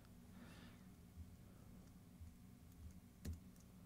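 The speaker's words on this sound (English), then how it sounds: "Type in whatever you want," Soft, faint keystrokes on a computer keyboard tap sparsely over a quiet room background, a few isolated clicks with one slightly louder near the end.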